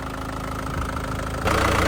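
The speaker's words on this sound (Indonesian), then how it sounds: "Suaranya mesin masih sangat pulen ya bos-bosku semua." A 2015 Isuzu Panther LS Turbo diesel engine idles steadily and close up, a smooth low rumble that grows slightly louder near the end.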